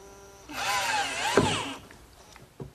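Power drill driving 5/8-inch screws into an oak bathroom vanity frame, one sustained whirring run of about a second with a pitch bend near its end, followed by faint workshop clicks.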